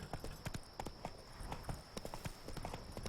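Horse hooves clip-clop at a steady riding pace in the video game The Witcher 3: Blood and Wine, with regular close hoof strikes over faint background ambience.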